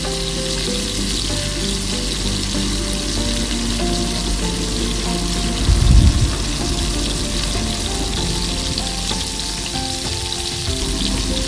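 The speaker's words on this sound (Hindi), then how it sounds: "उसमें हम प्याज को राई दाना के साथ ब्रेज कर लेंगे जब तक ब्राउन ना हो जाए" Onions fry in oil with mustard seeds for a crab curry, a dense continuous sizzle with a short louder burst near the middle, close and steady with no voices.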